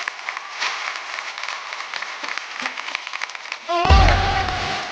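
Studio audience on a Hindi TV comedy talk show breaks into loud, sustained applause, clapping swelling sharply partway through as a guest is welcomed, with crowd noise beneath and a voice over the top.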